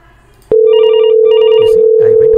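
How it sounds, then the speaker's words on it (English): A Cisco IP phone on a CUCM system rings right after the handset goes off hook with no number dialed. After a soft background hum, a loud steady tone starts abruptly with a warbling electronic ring pattern repeating over it. "the call started ringing on 10002"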